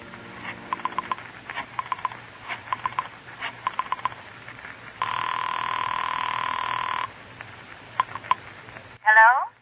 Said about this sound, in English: you dial Julie's private phone at the club